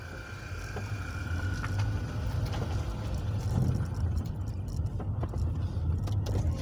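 A manual Nissan Pulsar N16 drives at low speed, its engine a steady low rumble heard from inside the cabin, with faint clicks and rattles over the top.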